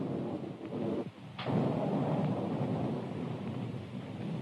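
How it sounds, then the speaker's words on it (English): Thunder from an approaching storm in an old mystery film rolls as a low, sustained rumble, preceded by a brief sharp crack, with wind-like noise throughout. "Storm coming up."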